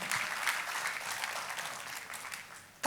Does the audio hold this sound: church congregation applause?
yes